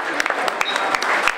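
Crowd applause for an event organizer at an outdoor Abarth classic car rally in Ospedaletti, a sustained patter of many hands clapping with a few sharper claps standing out, and faint voices mixed in.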